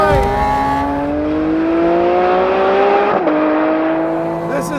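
A Porsche 718 Spyder RS revs hard to high rpm, its intake drawing air right behind the seats: a loud, close, climbing engine howl that dips briefly and then keeps rising.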